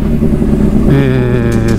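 Motorcycle fitted with an aftermarket muffler, idling and then revving up close, a loud, throaty engine note that rises and holds.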